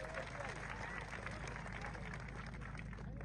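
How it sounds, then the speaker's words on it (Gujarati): A crowd at a political rally in Vyara, Tapi, applauds a party member and corporator, continuous dense clapping holding steady for about three seconds with some crowd murmur beneath. "એમના માટે જોરદાર તાળીઓ પાડી લો"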